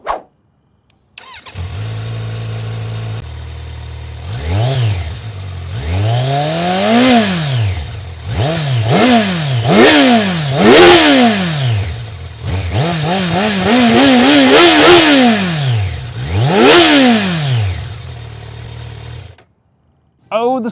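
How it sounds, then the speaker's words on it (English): A Kawasaki Z900 inline four-cylinder motorcycle engine idles, then revs hard again and again in rising and falling sweeps, loud and close, before settling back to idle. "Let's have a listen to the exhaust on the Z900 to see how it sounds."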